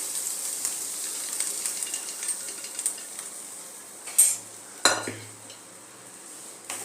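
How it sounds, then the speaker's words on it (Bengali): Boiled chickpeas being stirred into spices for chana masala in a pan over a high flame: a utensil scraping and clinking against the pan under a soft sizzle, with two louder scrapes near the end. "মশলার সাথে ভালো মতো মিশিয়ে নেব"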